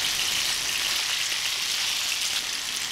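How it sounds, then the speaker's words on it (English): Mackerel fillets fry in hot oil in a pan, a steady dense sizzle and crackle that runs unbroken throughout. "we'll continue to fry the other side until it's cooked"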